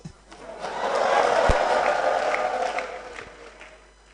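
Audience applause with some cheering at a live self-leadership talk event, a broad wash of clapping swelling over about four seconds and then fading, loud and fairly close.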